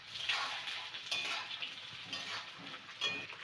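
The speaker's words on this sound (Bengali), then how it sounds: "এবারে পেঁয়াজটাকে হালকা ভেজে নিতে হবে।" Onion lightly frying in a pan with a steady soft sizzle and occasional stirring clinks, close and moderately quiet, no voices.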